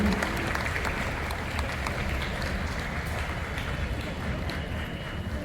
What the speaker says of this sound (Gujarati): તાળી પાડવાનું ચાલુ રાખજો